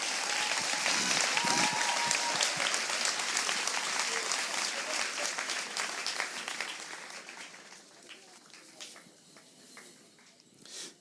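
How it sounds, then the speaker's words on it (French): A church congregation bursts into loud applause, dense and sustained at first, then gradually thinning and fading toward scattered claps. "On acclame la parole de Dieu, frères et sœurs"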